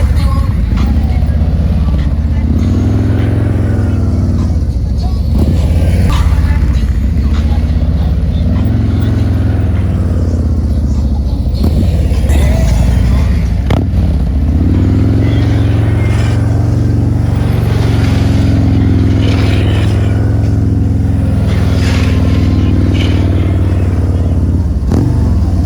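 Harley-Davidson CVO motorcycles ridden slowly through tight turns in a practice session, a low rumbling V-twin idle that swells and eases with throttle and clutch, close and continuous under occasional talk.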